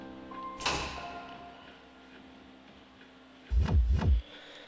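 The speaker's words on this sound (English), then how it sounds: "the hallway ends with a very heavy-looking metal door" A heavy metal door in a video game opens with a sharp clank, followed a few seconds later by a deep, loud double rumble as it grinds and thuds, over a faint background hum.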